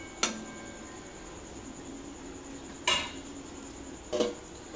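A lid goes onto a pan of cauliflower curry on a gas stove: three sharp metallic clinks spaced apart, the last a short rattle as it settles, faint and close over a quiet background.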